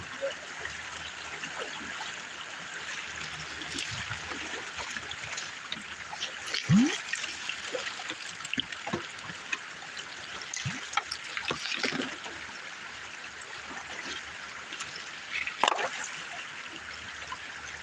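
Water of the South Umpqua River at Lawson Bar runs in a steady, soft broadband rush with small trickles and splashes, holding at an even level throughout.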